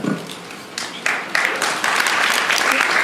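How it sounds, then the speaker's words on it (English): An audience at a live talk show event applauds, starting thin and quickly swelling into fuller, steady clapping that continues under faint voices. "Round of applause"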